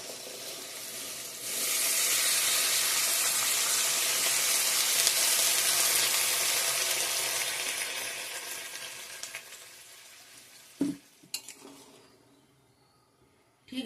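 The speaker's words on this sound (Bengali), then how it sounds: "মাশরুমটা ভালো করে সিদ্ধ করে নিই" Mushrooms cook in a pan after water is added, a loud hissing sizzle swelling up close and steady, then gradually fading to a softer bubbling simmer, followed by a few clanks of a spoon or lid.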